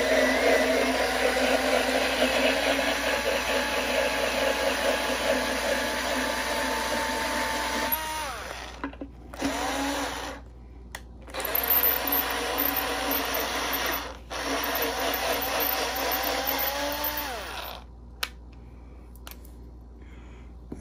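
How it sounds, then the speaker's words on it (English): A drill enlarging a hole in a ukulele gives a loud, steady motor whine that runs in several bursts, cut by short pauses and restarts. "Then we'll size up with the drill."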